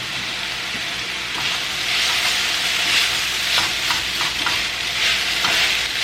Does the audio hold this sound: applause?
no